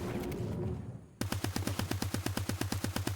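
A drum gun fires a fast, loud, close burst of regularly spaced shots in the Fortnite video game. Duller reload and movement noise comes just before the shooting.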